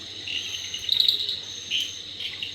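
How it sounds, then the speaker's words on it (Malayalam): Crickets chirping in the cold, misty Wayanad hills: a steady, high shrill trill with a few louder pulses, moderately near, in otherwise quiet surroundings. "ചീവീടുകൾ കരയുന്നു."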